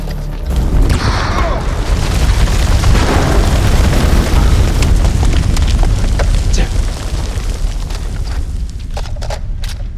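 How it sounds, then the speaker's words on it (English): A grenade goes off in the video game The Dark Pictures Anthology: House of Ashes, a loud deep boom with a long rumbling tail and scattered debris clatter, close and alone with no talking. "Grenade!"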